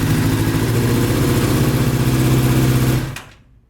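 A Honda CBR600RR motorcycle engine, from a wrecked and stolen bike under rebuild, idles loudly and steadily up close before cutting off abruptly near the end.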